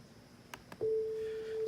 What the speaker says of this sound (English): a sine wave coming out of the speakers there.